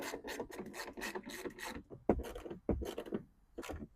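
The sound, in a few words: threading 10mm bolts with washers into Miata shifter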